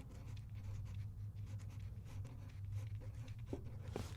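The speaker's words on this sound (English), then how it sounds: "I'm gonna write a sentence" Pen or pencil scratching across paper while a sentence is written by hand, soft close strokes in an uneven rhythm with a couple of sharper taps near the end.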